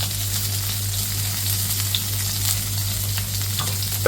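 Pork frying in oil in a pan for a chilli smoke pork dish, a dense continuous crackling sizzle close up and fairly loud, with a steady low hum running underneath.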